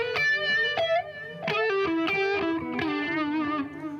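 An electric guitar played through a Uni-Vibe style modulation pedal rings out in sustained chords and single notes with a wobbling, warbling throb, loud and alone.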